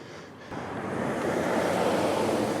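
A bicycle rides through water, giving a steady rushing spray mixed with wind noise that swells after the first half second and stays loud and continuous.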